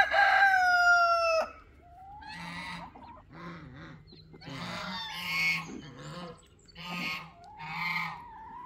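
A rooster crows loudly, then hens cluck and squawk in short bursts, close by and fairly loud.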